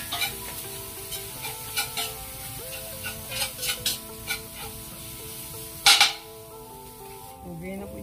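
Ginger sizzling in a hot wok-style pan as it is stirred, with repeated spatula scrapes and clinks over a steady fry, one sharp louder clank near the end.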